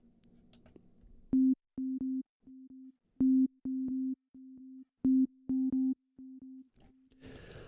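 A Soundtoys EchoBoy delay with its saturation turned up repeats a short tone in clipped, evenly spaced bursts, each echo loud and slightly distorted, with the pattern cycling a few times before a noisy tail.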